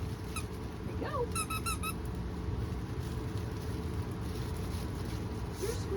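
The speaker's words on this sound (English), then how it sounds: "I'm sure this one squeaks too." A few quick, high-pitched squeaks from a rubber dog toy, clustered near the start over a low rumbling background, then mostly quiet.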